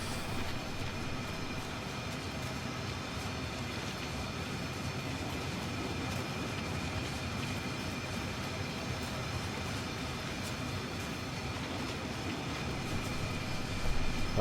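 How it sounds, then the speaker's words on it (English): A locomotive engine idles on the Sherman Hill route between Cheyenne and Laramie in Train Sim World 2, a steady low diesel rumble with a faint whine that holds evenly throughout at moderate distance. "locomotive with the engine running somewhere up here I can hear"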